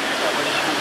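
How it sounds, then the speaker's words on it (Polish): Steady rushing spray of water from a fireboat's fountain during a river boat parade, a continuous broadband hiss like a powerful fountain jet, loud and even throughout the short moment. "pierwsza otwiera tą całą paradę strażak z numerem 6. No oczywiście piękna fontanna wody"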